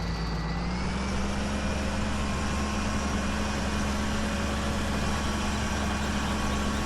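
A tractor engine idles in Farming Simulator 17, a loud, steady low mechanical hum with a constant drone that barely changes from start to finish, with no speech over it.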